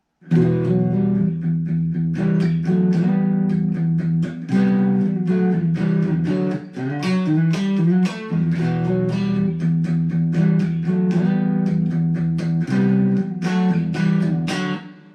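Bright strummed and picked acoustic guitar playing steadily, chords ringing out with a wide, roomy reverb and a shimmering chorused tone throughout.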